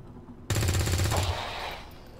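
Gunfire at a Stun Lancer in XCOM 2: after a quiet lead-in, a loud rapid burst of automatic shots cracks out close, holding for about a second before fading into a ringing tail.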